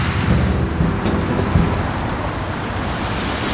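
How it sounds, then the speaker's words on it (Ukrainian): Rain pours steadily during a motorcycle ride, a loud, dense hiss with a few sharper splashes near the start, no voices. "ми покаталися на мотоциклі під дощем"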